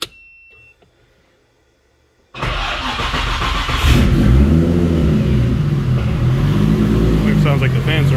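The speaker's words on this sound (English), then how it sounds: "So I am going to start the car up, turn the fans on" A car with a tucked radiator and Mishimoto Raceline cooling fans starts after a quiet pause, then its engine runs with a broad steady roar and shifting revs, loud and close, with a voice speaking over it.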